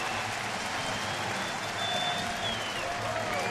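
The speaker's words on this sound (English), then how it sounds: "and another round of applause for the young man." A baseball stadium crowd at a Phillies at Washington game applauds steadily for a young player, the clapping and cheering dense and sustained throughout.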